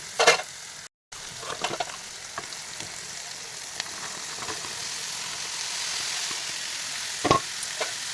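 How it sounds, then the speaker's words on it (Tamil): Snake gourd frying with onion and tomato in a pan, being stirred: a steady close sizzle with scattered spoon scrapes and a couple of louder clatters, no voices. "இப்போ புடலங்காய் போட்டுக்கலாம் ஃப்ரெண்ட்ஸ்"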